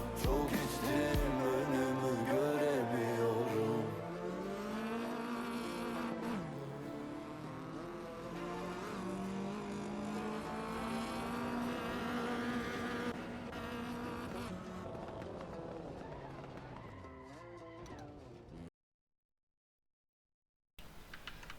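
A Peugeot 106 engine revs hard and rises and falls through a long handbrake drift in first gear, loud and close for most of the stretch, with a brief silent gap near the end before the engine sound returns.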